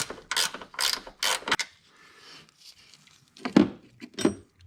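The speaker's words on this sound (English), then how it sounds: "you'll take a 13 millimeter, and it can be an offset, it can be a wrench, it can be a socket" A 13 mm socket ratchet loosens the strut nuts on a 2012 Nissan Sentra, giving several bursts of rapid close metallic clicking followed by a quieter pause and two more short clicking bursts.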